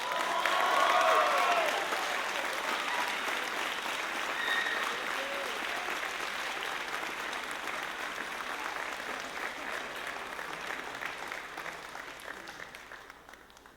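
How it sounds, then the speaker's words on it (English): A crowd at a high school band spring concert applauds a John Philip Sousa Award winner with dense, sustained clapping that starts loud and slowly thins out over about fourteen seconds. "Let's give them a big round of applause."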